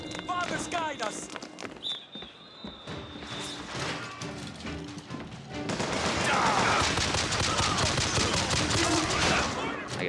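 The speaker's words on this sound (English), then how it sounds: "Oh, we've got a machine gun." Bursts of machine gun fire in the shooter game BioShock Infinite, loud and rapid in the second half, preceded by scattered shots and game effects with voices talking over the action.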